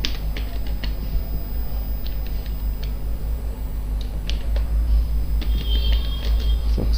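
Computer keyboard typing during a spreadsheet login task, irregular light clicks scattered across the whole stretch over a steady low hum, close by, with no voice.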